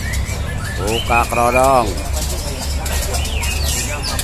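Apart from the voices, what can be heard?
young white-rumped shama (murai batu) calling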